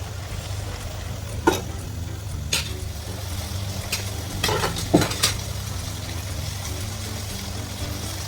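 Ginger garlic paste, about a spoonful, frying in a pan for an Assamese lentil and mustard greens dish, with a steady low sizzle and a few sharp spoon-against-pan stirring clinks, close and without talk.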